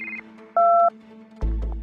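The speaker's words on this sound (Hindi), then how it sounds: "तभी आलिया को मेहुल का कॉल आता है" Incoming phone call signalled by a short series of electronic tones and beeps, clear and close, with a brief steady two-tone chirp in the middle followed by a louder burst of sound.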